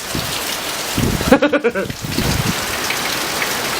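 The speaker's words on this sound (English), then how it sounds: "it's raining sideways" Heavy wind-driven rain pounds down during Hurricane Irma, a dense steady roar with a brief burst of nearby rattling or splashing in the middle, no talk over it.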